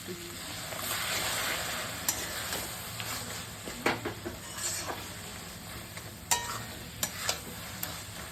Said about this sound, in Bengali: এই গরম জল দিচ্ছি এবার।